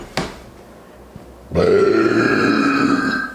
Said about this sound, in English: Here, I got a burp.